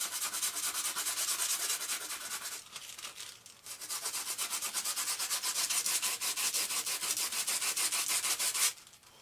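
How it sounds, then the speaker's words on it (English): Steady back-and-forth sanding on a small rounded wooden piece for an RC plane build gives a close, rhythmic rasp. It pauses briefly once and stops near the end. "I'm just going to do a little bit of sanding on this."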